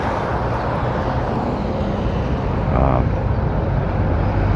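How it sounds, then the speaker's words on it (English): Airplane on approach to LaGuardia airport passing low over Woodside, Queens, a steady loud engine roar with street background. "that plane is landing at LaGuardia."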